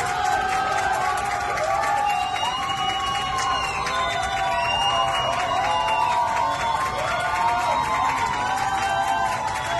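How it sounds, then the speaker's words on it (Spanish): A studio audience at a Spanish-language singing reality competition cheers, shouts and applauds for contestant Agustina Germanota, a dense, steady wall of crowd noise with whoops and high whistles throughout, no clear speech. "Aplausos para Agustina Germanota."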